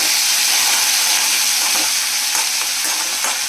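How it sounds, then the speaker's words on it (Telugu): Loud, continuous sizzle of dried red chillies, coriander and curry leaves tempering in a hot kadai, a dense steady hiss with faint crackles and no talking. "కళాయి వేడికి ఎండుమిర్చి కానీ కొత్తిమీర, కరివేపాకు కానీ ఫ్రై అయిపోతాయి"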